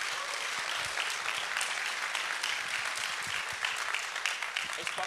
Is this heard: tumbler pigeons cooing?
no